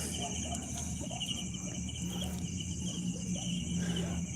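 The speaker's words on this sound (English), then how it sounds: "Oh, those are crickets." Crickets chirp steadily at night in an open rural area of trees and fields near Cordova, a constant faint high trill in the background while someone talks.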